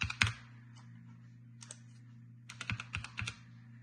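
Keys on a computer keyboard are tapped to enter a PIN while setting up Chrome Remote Desktop, a few scattered clicks followed by a quick cluster of taps over a low steady hum.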